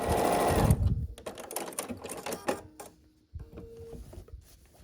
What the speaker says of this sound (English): just to take these 2 and sew them down the middle